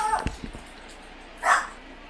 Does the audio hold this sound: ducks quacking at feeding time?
no